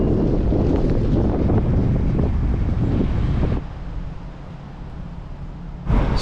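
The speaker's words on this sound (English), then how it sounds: "Oh, it's a little more windy here." Strong wind buffets the microphone beside a river in Inverness, a loud, continuous rumbling roar that eases briefly toward the end before gusting hard again.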